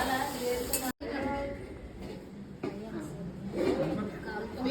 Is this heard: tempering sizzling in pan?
yes